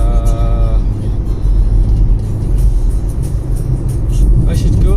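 Car driving along the highway from Chennai to Tirupati, with a steady, loud low engine and road rumble throughout and a voice talking over it.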